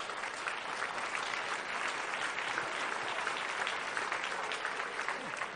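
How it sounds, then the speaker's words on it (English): A large audience at a panel discussion with Jack Ma breaks into sustained applause, a steady dense wash of many hands clapping with no talk over it. "Big round of applause"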